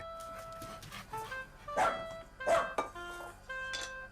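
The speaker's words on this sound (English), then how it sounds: "He feeds Freddie, his dog" A dog barks and yips in a few short bursts, close and fairly clear, with brief whimpering sounds between the barks.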